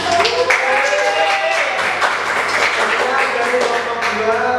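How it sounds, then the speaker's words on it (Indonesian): A classroom crowd applauds, dense clapping filling several seconds at a loud, close level with some voices mixed in. "Tepuk tangan."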